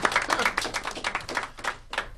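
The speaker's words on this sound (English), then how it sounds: "give him a round of applause" A small group gives a round of applause for a poet, with uneven, moderately close clapping through the whole stretch and no talking over it.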